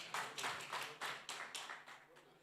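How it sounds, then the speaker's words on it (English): An audience claps in a soft, uneven run of about eight to ten bursts at a soccer extravaganza draw event. The applause sounds somewhat distant and modest in volume, with no clear speech over it. "another round of applause"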